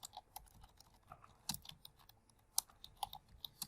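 Someone types on a computer keyboard in quick irregular bursts of close, crisp clicks and clacks, with a few louder keystrokes standing out and no talking.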